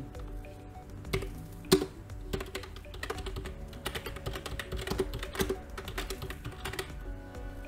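Rapid clacking of a computer keyboard being typed on, irregular bursts of keystrokes close up with a few louder taps, no talking.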